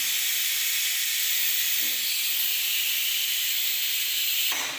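Crab kuruma masala sautés in a pan, a loud, steady hiss of frying that holds evenly for several seconds, alone without talk.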